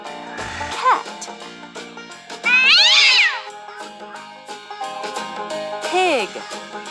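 A cat meows three times over background music, the middle meow long and loud and the others shorter and softer.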